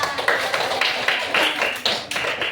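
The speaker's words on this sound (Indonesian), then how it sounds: "tepuk tangan dulu buat kita semua" A classroom group in an Indonesian lesson claps together in a fairly quick, even rhythm of sharp bursts. The clapping is close and moderately loud and continues for a couple of seconds with no talking.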